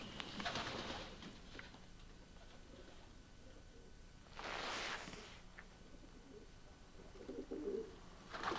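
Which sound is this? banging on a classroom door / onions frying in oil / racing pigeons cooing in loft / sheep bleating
racing pigeons cooing in loft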